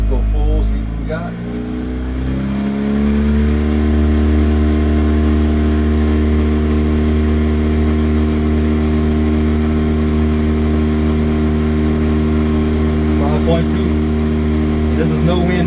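A tiny houseboat's small motor pushed to full throttle: a steady, droning engine hum with strong tones that climb in pitch during the first few seconds, then hold evenly and loud.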